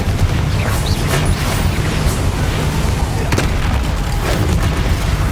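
Spell explosions in the Hogwarts Legacy video game, a dense, loud stretch of booming blasts and bursts over a constant rumble, with no clear gaps between hits.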